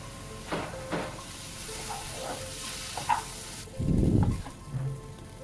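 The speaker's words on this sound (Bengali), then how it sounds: "কড়াইতে 1 চামচ বাটার দিয়ে এইবার এর মধ্যে ম্যারিনেট করে রাখা পনিরগুলো ভালো করে ভেজে নেব।" Marinated paneer cubes fry in butter in a wok over low-to-medium gas, a soft steady sizzle with occasional scrapes of stirring and a louder burst of frying toward the end.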